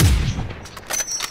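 Gunfire in the video game Warzone, with a deep boom at the start followed by a short burst of sharper shots, fairly close and loud.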